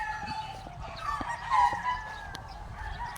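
A bulik gamefowl rooster on a gamefarm crows in a drawn-out call over steady farm background noise, moderately near, with faint sounds around it.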